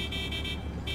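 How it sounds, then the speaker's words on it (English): A car horn in GTA 5, sounding in several short repeated toots at a fairly quick, uneven rhythm, moderately loud and with no talk over it. "You keep honking that horn"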